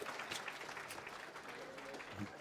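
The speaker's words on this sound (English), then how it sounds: "Okay, applaud the man from St. John's." Brief indoor applause at the South African Mathematics Foundation awards function for a grade 8 St. John's College winner, steady clapping with a voice speaking over it.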